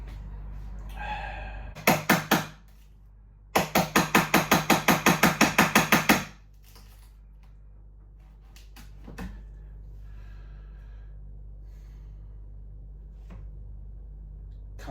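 Sharp metallic taps of a small hammer on a large chisel splitting plywood: a quick burst of a few strikes, a pause, then a fast run of about a dozen even blows, close up.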